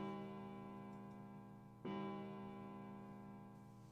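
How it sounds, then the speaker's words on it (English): A distant clock bell chimes once in the game Nine Hours Nine Persons Nine Doors, a single soft strike over a steady background hum, its ringing tone lingering and fading slowly. "a bell began to ring from far away"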